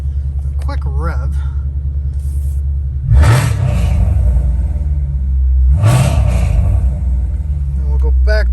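Jaguar F-PACE SVR 2020 in dynamic mode, its engine idling with a deep steady rumble, then two sharp revs a few seconds apart that swell and fall back, with brief voices at the start and end.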